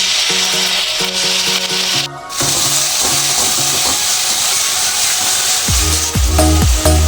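Spice paste fries for butter chicken in a hot wok, giving a loud, continuous hiss and crackle with brief scraping. Steady tonal background music plays underneath.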